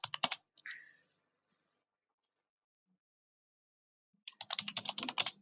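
Quick bursts of typing on a computer keyboard, a short flurry of clicks at the start and a denser, steady run of keystrokes near the end, separated by several seconds of silence.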